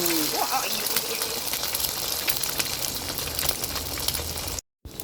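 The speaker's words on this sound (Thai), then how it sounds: "แต่เราจะทำไข่ดาวแบบสุกนะ" A fried egg cooks through in a hot pan with a steady, loud sizzling hiss that runs unbroken, then cuts out briefly near the end.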